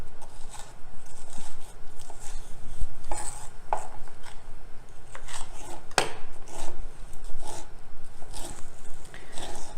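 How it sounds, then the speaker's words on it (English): A knife taps repeatedly against a cutting board in an uneven rhythm while chopping red pepper, close up, with a few sharper knocks mixed in. "as soon as we're done chopping the veggies"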